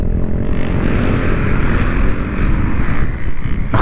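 A pit bike engine runs steadily and loud at close range, a continuous buzzing drone with slight rises in revs, no talk over it.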